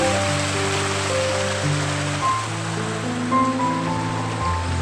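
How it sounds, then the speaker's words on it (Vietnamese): Mountain stream water flowing steadily from a rocky cleft in a forest, a loud, continuous rushing wash close by with no voices. "cái nguồn nước từ con suối này là nó bắt nguồn từ cái khe suối từ trong núi nó chảy ra luôn"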